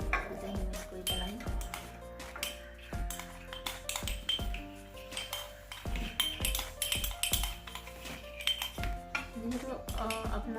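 A large spoon mixing homemade baby cough syrup in a small dish, with a rhythmic series of bright metallic clinks and rings against the dish, close and fairly soft.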